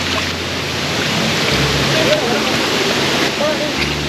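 Rushing water of the Naganathi waterfall in Vellore, a steady loud wash of flowing water close by, continuous throughout with faint voices underneath.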